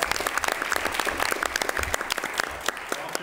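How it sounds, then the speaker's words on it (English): Steady applause from a crowd, many hands clapping densely and continuously at moderate loudness. "Another round of applause."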